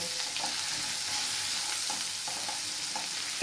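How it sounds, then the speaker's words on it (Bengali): Potato pieces with salt and turmeric fry steadily in a pan, a continuous close sizzle with a few faint stirring knocks and a sharp clatter at the very end. "এই আলুটা আমি এবার সামান্য নুন আর সামান্য একটু হলুদ দিয়ে এটা ভেজে নেব"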